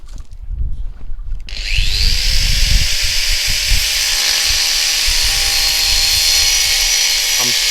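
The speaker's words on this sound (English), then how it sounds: "marking them down halfway, just cutting them down with an angle saw." An angle grinder scores and cuts roofing pieces for a koi pond filter house, starting after a few seconds of handling noise, then a loud, steady high whine that holds through the rest, close by, with a brief voice partly under it.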